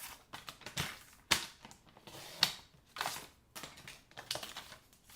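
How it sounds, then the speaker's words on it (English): Paper being cut to size for a handmade gift box, a run of close crisp snipping and crinkling strokes at an irregular rhythm, with no talking. "I need to cut this paper because it's a little too big."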